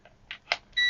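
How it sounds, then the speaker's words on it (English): Continuity beep from a Kaiweets HT208D clamp meter testing 20 ohms: a few short faint blips, then a loud, steady, clean electronic tone that starts abruptly and holds to the end. "So 20 ohms, it should beep."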